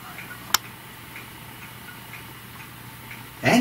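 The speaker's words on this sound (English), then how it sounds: "I wanted to show my grandfather clock that he bought me" A grandfather clock ticks faintly and steadily indoors in a quiet room, with one sharp click near the start and a brief burst of noise at the end.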